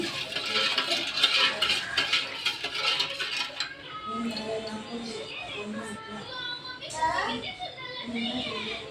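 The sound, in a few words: spoon stirring sugar in pot to melt it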